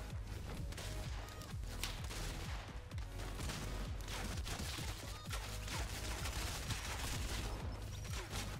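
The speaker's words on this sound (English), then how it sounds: "So a fairly standard looking AK-47. Apparently it shoots nuclear bombs." A Fortnite AK-47 that shoots nuclear bombs unleashes dense, continuous gunfire and heavy blasts, loud and relentless for the whole stretch with no talking.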